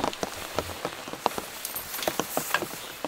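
Heavy rain patters steadily on a truck during an overnight camping storm, with dense irregular drops and sharper individual hits striking the metal close by, alone without talk.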